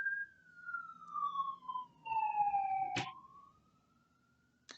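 An emergency vehicle siren wails past, its pitch sweeping and sliding down as it goes by, fairly distant and moderately loud, with a brief horn-like blast midway and no talk over it.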